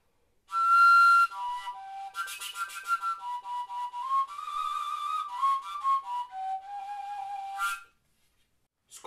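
A Slovak folk fipple pipe with three finger holes plays alone, a clear whistling melody of sustained notes that slide and step between pitches for about seven seconds before stopping.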